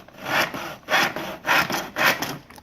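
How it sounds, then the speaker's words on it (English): A hand saw cuts through wood in four steady back-and-forth strokes, each a close, raspy burst of scraping separated by brief pauses, with no talking. "Where did you learn how to saw that perfectly?"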